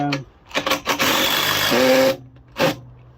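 A power drill drives a screw down into a washing line's metal arm, giving a few short whirring bursts, then a sustained run and one final burst, close and loud.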